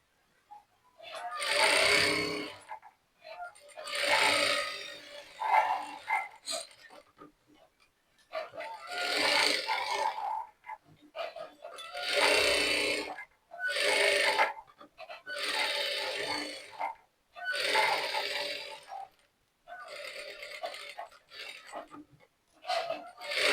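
A sewing machine stitches along the edge of a piece of fabric, running in roughly eight close, loud bursts of several seconds each, separated by short pauses.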